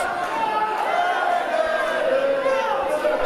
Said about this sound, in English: the crowd singing goodbye